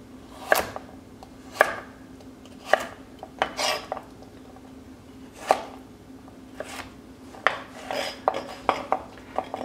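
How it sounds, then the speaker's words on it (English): A knife chops quartered carrots on a cutting board for bacon fried rice, sounding as a series of sharp, close thunks in irregular bursts over a faint steady hum. "Take all your carrots and quarter them."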